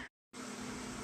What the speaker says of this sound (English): You can probably hear my kettle in the background heating that water for my coffee.